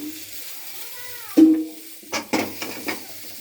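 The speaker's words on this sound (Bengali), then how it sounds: "হলুদ গুঁড়োটা দিয়ে আমি একটু নাড়াচাড়া করে নেব" Turmeric powder being stirred into a fish curry with potato and papaya: a soft scrape of a spoon in the pot, then a few sharp clinks against the pan, heard after a brief spoken word.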